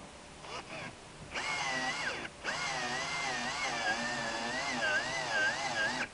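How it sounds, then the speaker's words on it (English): Cordless drill spinning a hole saw through a cab mount, its motor whine rising and bogging in long sustained runs with a brief stall between bursts, close and loud. "it don't take much to stop this damn drill"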